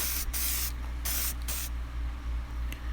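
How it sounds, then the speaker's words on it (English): A spray can of primer hisses onto Ek hatch headlight housings in short bursts, several quick sharp sprays close up with brief pauses between them. "So now I'm just spraying the adhesion promoter, actually the primer now"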